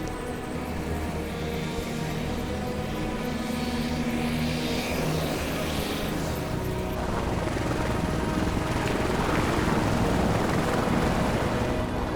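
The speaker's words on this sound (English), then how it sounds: "Air ambulance is just taking off now." An air ambulance helicopter's steady rotor and engine roar fills the whole stretch, loud and close at a highway wreck, swelling slightly toward the end as it lifts off.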